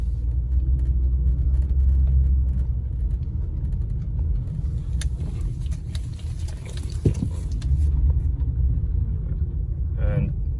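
Honda CR-V rolling through tight turns in a parking lot after a repair, a steady low engine and road rumble heard from inside the cabin with no grinding, plus a few brief clicks and a short rising squeak near the end.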